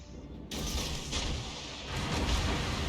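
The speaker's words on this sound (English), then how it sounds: "Dodging incoming fire from the battleships" Battleship shells in World of Warships, a sudden loud boom of incoming naval gunfire followed by a sustained rumbling roar and further heavy impacts.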